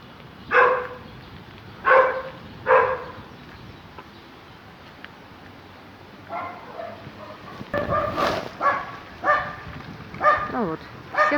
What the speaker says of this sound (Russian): Ну вот, все собаки нас облаяли.